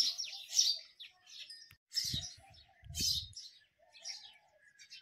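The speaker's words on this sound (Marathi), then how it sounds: "काय चिमण्या ओरडत येतात." Sparrows chirp in quick bursts of bright, busy twittering, several calls overlapping nearby, with brief low thumps underneath and short quiet gaps between bursts.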